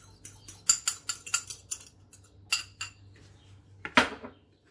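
Banana and egg batter is stirred briskly in a bowl, a quick run of utensil clinks and scrapes in rhythmic bursts, then a pause and a final louder clatter.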